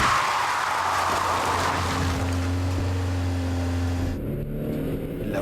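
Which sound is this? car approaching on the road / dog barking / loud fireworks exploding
car approaching on the road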